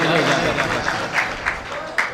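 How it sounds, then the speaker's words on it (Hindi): Audience applause at a mushaira poetry gathering, a dense, steady clatter of many hands lasting a couple of seconds with a few sharper bursts standing out near the end. "एक मरतबा हम अपने आप के लिए जोरदार तालियां बजा दें"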